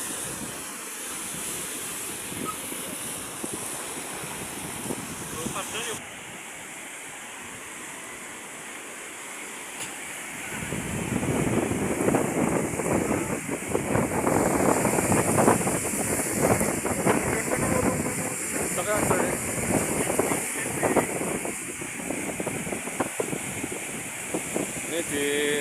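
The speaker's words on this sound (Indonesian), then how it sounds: "Ini anginnya cukup kencang ya guys di sini ya guys." Strong wind buffets the microphone with a steady roar of waves at Marina Beach on the northern Java Sea coast, building louder after the first ten seconds and continuing as broad, rushing noise.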